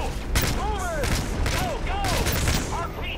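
Rapid gunfire bursts and whizzing projectiles fill a firefight across a courtyard in Call of Duty: Modern Warfare 3, a dense, continuous battle din with overlapping shots and booms.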